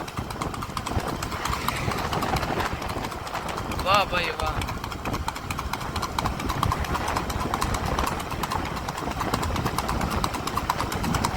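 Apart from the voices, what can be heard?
horse hooves clip-clopping while being walked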